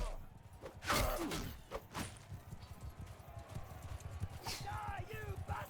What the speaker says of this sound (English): I've got a horse coming in behind me, so I need to be careful.